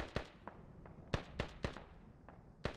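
Faint, sharp shots ring out in a multiplayer military shooter game, one of them taking down a British soldier. About eight crisp reports come at irregular intervals, a few stronger cracks standing out against quiet background noise, with no talking.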